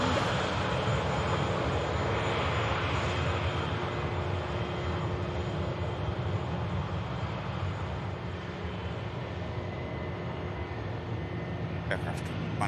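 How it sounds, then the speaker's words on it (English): A Ryanair Boeing 737 inbound from Cork landing at Manchester Airport, a continuous loud broad jet roar that holds steady and fades slightly near the end, heard from outdoors. "Aircraft landing from Cork"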